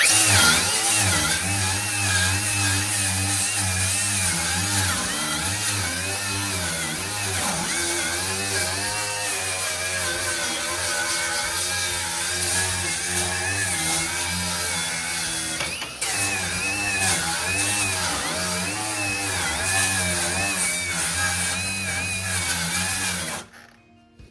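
A wire wheel on a grinder scours the rusty floor pan of a 1968 Volkswagen Beetle, giving a loud, steady, harsh whine with rasping texture that runs without a break for over twenty seconds before stopping abruptly.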